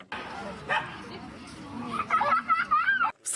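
Dogs bark, yip and whimper in a crowded village square in a Kyiv suburb, with several near yaps and whines rising over a murmur of people talking nearby.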